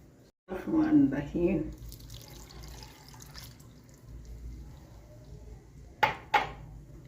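A splash of water poured into a pot of chicken and bitter gourd curry amid kitchen clatter, followed by faint dripping and two sharp metallic clinks near the end; a voice speaks briefly.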